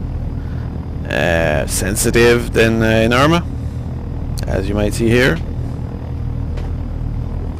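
A helicopter in the flight game Take On Helicopters: a steady low rotor and engine rumble holds throughout under someone speaking.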